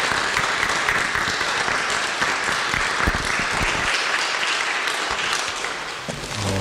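A church congregation at Hannover Korean Church in Germany applauds to welcome the visiting pastor, loud sustained clapping from many hands that carries on for several seconds before easing off near the end.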